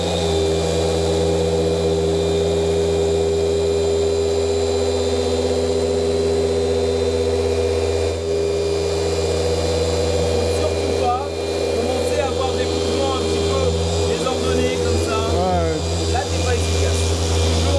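Electric car polisher correcting clear coat, its steady drone rising as the working speed is increased, loud and continuous with a voice talking over it.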